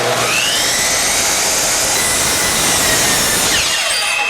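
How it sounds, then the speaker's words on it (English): A power saw rips through wood scraps, cutting a semicircle shape for an Adirondack chair swing: a loud, continuous high-pitched whine that holds steady for about three and a half seconds, then trails off and stops near the end. "Now I'm just going to make 4 or 5 cuts around and cut this kind of in that semicircle shape"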